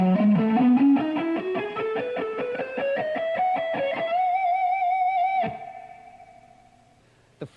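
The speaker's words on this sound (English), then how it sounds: "The third part of the riff sounds like this." Fast distorted electric guitar riff in a shred style, a rapid run of picked notes climbing in pitch, then a sustained bent note that rings out and fades, ending with a brief click.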